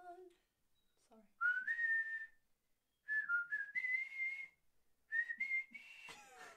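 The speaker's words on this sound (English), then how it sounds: "whistle the Titanic theme tune." A person whistles the Titanic theme tune in three sustained melodic phrases separated by short pauses, clear and close, with a few brief noises between the phrases.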